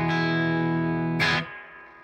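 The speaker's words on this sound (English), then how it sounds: "So bringing in the reverb, let's put everything at 12 o'clock." An electric guitar played through a Strymon reverb pedal with every knob set to noon: a sustained chord rings out, a short strum follows, and the reverb tail then fades away smoothly.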